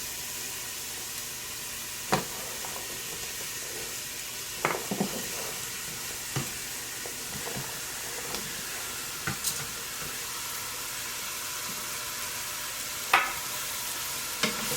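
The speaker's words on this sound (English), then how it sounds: "Give it a good saute." Lentil stew ingredients sauté in a hot pot, giving a steady sizzle and stir with scattered sharp scrapes and knocks of a utensil against the pot, heard close and alone.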